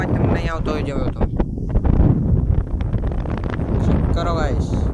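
Strong wind buffets an outdoor location near water, roaring continuously and loudly throughout, with someone talking over the gusts.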